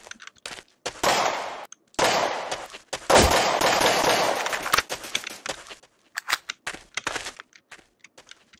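Gunfire in the Minecraft map Блокпост comes as loud bursts of rapid shots lasting about a second each, separated by short gaps, then trails off into scattered single cracks and clicks.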